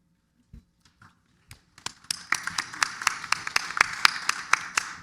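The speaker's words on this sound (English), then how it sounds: "Can we have one more round of applause for our panelists?" Audience applause for conference panelists, starting with a few scattered claps that build into steady, fairly close clapping from a modest crowd.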